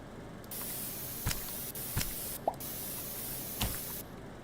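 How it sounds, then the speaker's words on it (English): A spray can of paint hisses in several short bursts aimed at a pre-stretched white canvas, separated by brief pauses and a few small clicks and knocks, close and clear. "I'm gonna try the spray can again."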